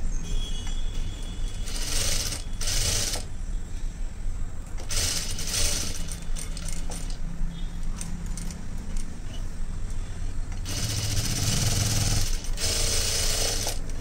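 A sewing machine stitches along the canvas edge of a blouse, loud mechanical whirring in several bursts separated by short pauses.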